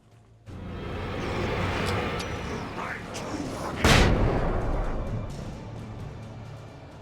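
A flashbang goes off in the game Alan Wake: a single loud, sharp bang near the middle, rising over a steady rumbling game ambience that holds before and after.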